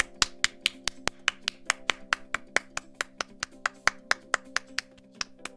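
A single pair of hands claps sharply and close, around twenty crisp claps in a fast, slightly uneven rhythm over a faint steady hum.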